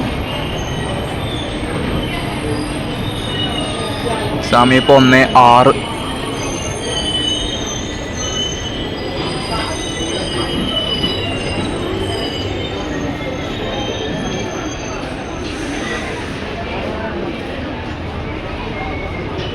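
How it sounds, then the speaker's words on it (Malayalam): A sleeper superfast express pulls out of Ernakulam Junction station, its wheels rumbling and clattering steadily on the rails, with a brief high squeal near the start, while someone talks over the noise. "എറണാകുളം ജംഗ്ഷൻ റെയിൽവേ സ്റ്റേഷനിൽ നിന്ന് ട്രെയിൻ ഡിപ്പാർട്ട് ചെയ്തു കേട്ടോ"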